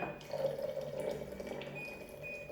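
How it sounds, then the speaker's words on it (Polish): Cold water runs from a tap into a bottle in a kitchen, a continuous gurgling, slightly rising stream that is close and moderately loud, with no talking over it. "Przytrzymuję dwa razy, żeby woda sobie leciała do końca."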